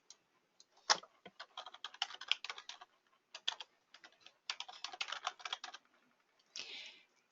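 Fingers type login credentials on a computer keyboard, with bursts of quick, close key clicks separated by short pauses and ending in a softer, smeared patch of keystrokes.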